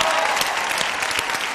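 A studio audience on an Indian dance reality show claps loudly and continuously, a dense, close wall of applause with no break.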